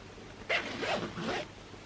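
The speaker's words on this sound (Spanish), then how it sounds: "Ahora abro la cremallera" An invisible zipper on a homemade long dress is drawn open in two or three quick rasping strokes, close and clear against a quiet room.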